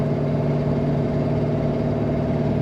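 1963 Pontiac Lemans 2-door sport coupe with an automatic transmission, idling with a steady, smooth, deep rumble, close and continuous with no voices.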